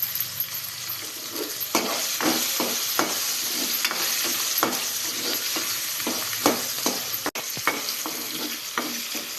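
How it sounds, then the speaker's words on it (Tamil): Pirandai (adamant creeper) chutney being stirred in a frying pan, with a steady sizzle and repeated scraping strokes of a spoon against the pan, close and continuous with no talk. "நல்லா கைவிடாமல் கலந்து விட்டுட்டே இருக்கணும், இல்லைன்னா அடி பிடிச்சிடும்."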